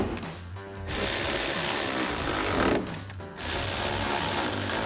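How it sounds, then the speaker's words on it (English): Ratchet and 8mm socket tightening bolts on a replacement upper grille of a 2019-2023 RAM 1500, close, dense clicking in sustained bursts with brief pauses between. "And then we'll grab our 8mm socket to tighten these down."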